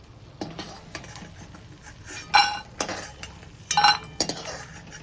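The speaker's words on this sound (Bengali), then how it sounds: "এবার বড়িটাকে আমি তুলে নেব।" Fried lentil dumplings (bori) are lifted out of a pan with a metal utensil, giving a few sharp, close clinks and scrapes against the pan amid quiet rustling.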